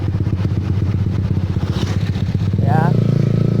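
A Honda CB150R motorcycle fitted with a Pro Liner TR-1 carbon long exhaust runs with a loud, close, throbbing engine note that rises in a short rev near the end, while a voice talks over it.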